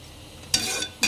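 Vermicelli payasa being stirred in a pan, two quick scraping strokes with a brief sizzle, close and fairly quiet after a near-silent start.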